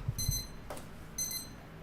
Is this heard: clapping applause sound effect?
no